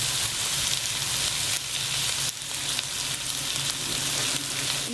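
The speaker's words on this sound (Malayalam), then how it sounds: "ഇഞ്ചിയും വെളുത്തുള്ളിയും കൂടി ഇതിലേക്ക് ഇട്ട് നല്ലൊരു ഇളക്കി യോജിപ്പിച്ച് നല്ലൊരു വഴണ്ട വരട്ടെ" Crushed ginger and garlic sauté in hot oil in a clay pot for a Kerala-style fish curry, giving a steady, loud, close sizzle with a faint stirring scrape partway through and no voices.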